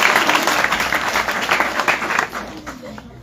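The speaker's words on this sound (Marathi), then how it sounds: "जोरदार टाळ्या वाजवा डॉक्टर मॅडमसाठी" Audience applause for a woman doctor at a Marathi talk on controlling emotions: dense, steady clapping from a crowd filling the room, loud and continuous before thinning toward the end.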